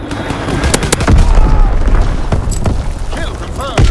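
Heavy explosions rumble amid gunfire in the Call of Duty: WWII game, with deep booms under a dense, loud, continuous battle din and sharp shots scattered throughout.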